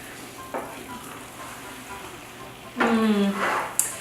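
Butternut squash risotto stirred in a pan with Parmesan, a soft background sizzle broken by a louder burst of scraping and stirring near the end, and a brief clink as it finishes.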